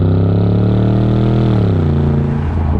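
Morgan Aero 8 SuperSports with a 4.8 litre BMW V8, a loud, bellowing engine note that climbs under acceleration and then drops in pitch as it shifts and settles into a deep steady roar.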